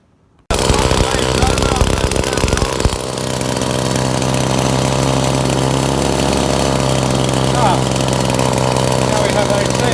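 A whipper snipper motor rigged to drive a homemade generator runs loudly and steadily throughout, with a harsh buzzing drone after a brief start and a slight dip in pitch early on.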